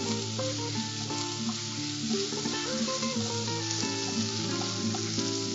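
About 100 grams of chopped ginger and six sliced green chillies sauté in a hot pan, a steady close sizzle and crackle with light stirring throughout.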